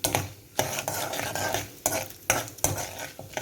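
Seasonings frying and being stirred in a pan while making a colocasia (bacchali) leaf curry, with a steady sizzle broken by several sharp scraping stirs of a spatula against the pan, close and fairly loud.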